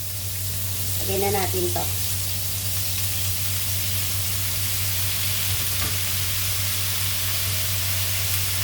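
Shrimp and broccoli sizzle steadily in a hot pan, a loud, continuous frying hiss with a low hum beneath, while a voice speaks briefly near the start.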